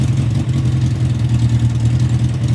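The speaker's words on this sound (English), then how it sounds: "I'll fire it up. It seems to idle brilliantly" A Suzuki Bandit 1200 SK4 motorcycle engine idles after its carburetors were cleaned, a close, loud and steady low throb with an even, unbroken rumble and no talking.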